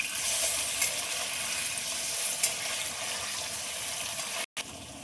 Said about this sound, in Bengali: পনিরগুলো ভাজার জন্য উল্টে দেবো